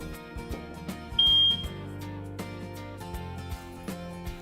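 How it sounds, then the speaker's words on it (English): A smoke detector test beep: a single bright, high-pitched electronic beep lasting about a third of a second, sounding over steady background music. "You are responsible for testing the smoke detector monthly by pressing in the button"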